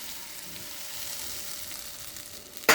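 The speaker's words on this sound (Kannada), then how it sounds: "ಉಪ್ಪು ಹಾಕಿಟ್ಟಿದ್ದು ಭತ್ತರಳು ಹಾಕ್ತಾಯಿದ್ದೀನಿ" Salted rice popcorn (puffed paddy) goes into a tempering pan of crisped peanuts and oil, holding a steady, soft sizzle up close before a sudden sharp burst of crackling at the very end.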